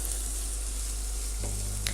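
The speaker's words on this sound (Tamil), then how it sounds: "இது எல்லாத்தையும் ஆட் பண்ணதுக்கப்புறமா இது ஒரு 2 மினிட்ஸ் நம்ம நல்லா ஆயிலில் ஃப்ரை பண்ணி எடுத்துக்கணும்." Onion, green chilli and curry leaves fry in oil with a close, continuous sizzle and hiss, alone with no voices.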